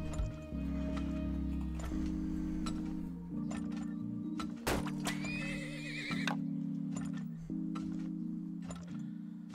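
Horses neigh and whinny in an oil-drilling video game, with clip-clop hoofbeats and clinking over a steady synthetic music bed; a loud whinny rises near the middle, and no one speaks.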